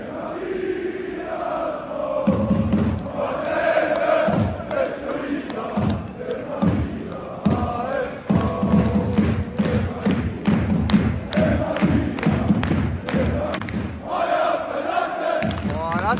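Football fans in the stadium at the Hamburg derby between FC St. Pauli and Hamburger SV, a loud crowd roaring and chanting with rhythmic thumping claps, while voices shout over the din throughout.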